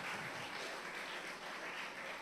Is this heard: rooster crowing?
no